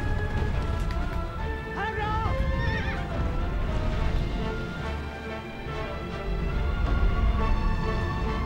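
A horse neighs and its hooves clatter in the Shadow of the Colossus video game, the whinny rising clearly near the middle over continuous rumbling, rain-like game ambience and music, with a voice talking along.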